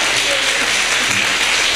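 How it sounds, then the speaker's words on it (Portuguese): Church congregation applauding during a sermon, a steady dense wash of hands clapping throughout, fairly loud and close, with no speech over it. "Aplauda ao Senhor por isso."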